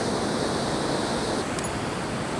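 Water rushes steadily over a dam spillway in a constant, loud, broadband roar with no break and no voices.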